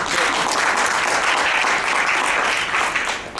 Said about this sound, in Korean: 이 부분에 박수 주시면 확실히 주십시오.